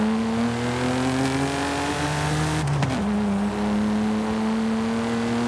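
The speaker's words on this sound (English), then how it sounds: "the sound of this car's engine under load is very realistic" A BMW M4 engine under load in Forza Horizon 5, a loud, steady high-revving drone with strong harmonics that dips briefly at a gear change around the middle, then keeps pulling hard.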